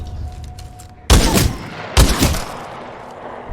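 Two loud, close bursts of gunfire about a second apart from the Double Take weapon in Titanfall 2, each a sharp multi-shot blast that fades quickly.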